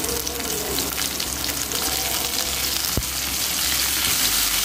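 Curry leaves frying in hot oil for a fish curry give a loud, dense, continuous sizzle close up, with one sharp knock partway through and no voices.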